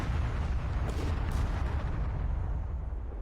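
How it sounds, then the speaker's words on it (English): Dull artillery booms rumble under a steady low battle roar in a World War II strategy game, several distant thuds blending into continuous background noise with no voices. "the enemy's literally throwing artillery at us"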